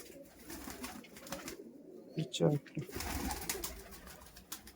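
Giribaz pigeons in Murshidabad, West Bengal, give soft, fairly faint coos, with a short cluster of calls in the middle of the clip over a low background.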